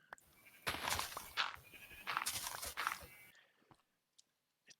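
Sheep in the video game Minecraft giving several bleats in quick succession amid crunchy game sounds, fairly close, then fading to near silence with a few faint clicks.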